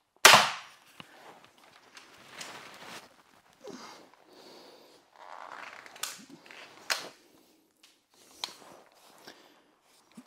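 An X-Bow FMA Supersonic Tactical crossbow fires one sharp, loud test shot at the start, followed by quiet clicks, rustles and handling noises.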